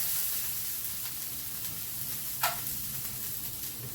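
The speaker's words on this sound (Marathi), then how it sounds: "थोडं मिठाचं पाणी टाकायचं" A steady hiss of salt water sizzling on a hot griddle fills the clip, with a brief sharper spurt partway through.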